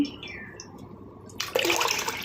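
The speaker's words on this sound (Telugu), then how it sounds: "ఒకసారి ఇలా కడిగేసుకోవాలి బియ్యం కడిగిన వాటర్తో" Water splashing and pouring as food is rinsed in rice-rinse water for a curry, starting quiet and turning into a steady close gush partway through, with no talking.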